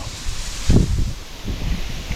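Wind buffets and rumbles in low gusts while testing a spinning fishing rod, with a strong blast near the start and softer rushes after, close and noisy.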